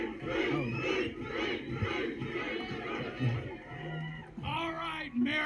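A large crowd at an MMA event roars and cheers continuously, with shouting voices rising and falling throughout.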